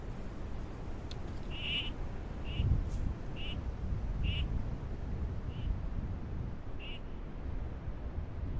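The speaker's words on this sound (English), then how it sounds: "I hear ducks again" Mallard ducks quack in a repeated series of short calls, distant and fairly faint, over steady wind or rushing background noise outdoors.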